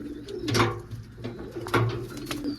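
Pigeons coo nearby in three soft, throaty bursts with short pauses between them.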